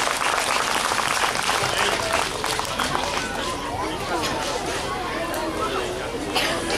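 Sustained audience applause at a primary school's annual cultural program, dense steady clapping filling the hall from start to finish, with faint crowd murmur beneath.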